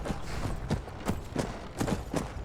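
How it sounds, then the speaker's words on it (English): Horse hooves clip-clop at a steady walking rhythm in Skyrim, about six distinct thuds over a couple of seconds, fairly close and clear with no talking. "let's keep our horse in the stables"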